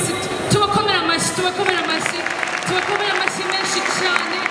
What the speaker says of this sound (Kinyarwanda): uyu munsi tubakomere amashyi